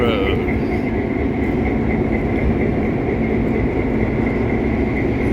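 A Verde Canyon Railroad diesel locomotive train rumbles steadily and loudly nearby at Clarkdale, Arizona, with a continuous low engine drone and a sustained tonal hum, while people talk in the background.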